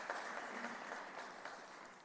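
A short burst of audience applause at a federal government announcement in Edmonton, Alberta, steady broadband clapping that tapers off slightly at the close.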